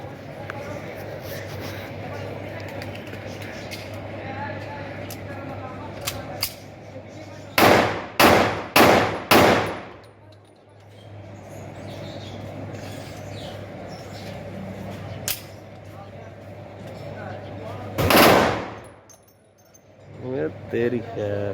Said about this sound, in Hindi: इस पे कुछ चेक फायर करते।